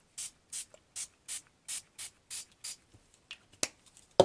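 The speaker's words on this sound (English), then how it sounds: "Spritz them." Spray bottle spritzing paper for a scrunched 3D flower, about eight short even hissing bursts in steady rhythm, close and clear, followed by a few light rustles and taps.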